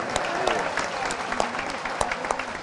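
A crowd at a political rally claps steadily, a dense, sustained burst of applause with talk faintly underneath.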